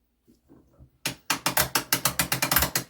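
Ollie Baker mainspring winder's ratchet and pawl being tightened: a quick run of about a dozen sharp, evenly spaced metallic clicks, close and loud, after a few faint handling sounds.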